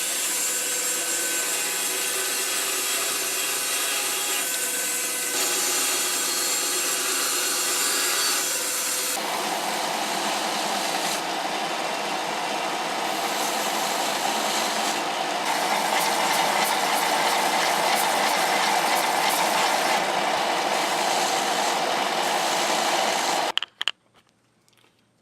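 Wood for a baby rattle is sanded with 600 grit sandpaper in a continuous dense rasping that grows slightly stronger midway, close and steady before stopping abruptly near the end.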